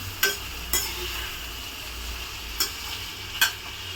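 Green gram and curd sautéing in a pan for a spinach dish, a steady low frying hiss broken by four sharp spatula scrapes and clinks spaced through the stretch.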